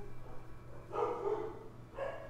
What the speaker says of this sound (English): I'm gonna mute this while they bark for a bit.